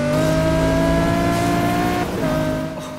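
A Lamborghini Gallardo Super Trofeo race car in the Need for Speed Rivals video game gives a loud, sustained engine drone at a steady high rev, with a brief pitch dip and recovery near the end.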